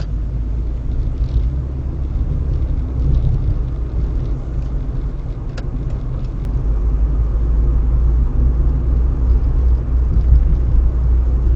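A car driving at night toward town, its engine and road noise forming a steady low rumble heard from inside the cabin, loud and continuous with no talk.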